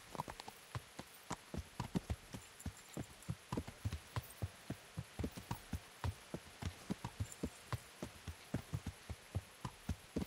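Horse hooves striking a dirt path during a night ride in the video game Kingdom Come: Deliverance: a steady, rhythmic clip-clop of a trotting horse, close and clear, continuing evenly over a low hum with no talking.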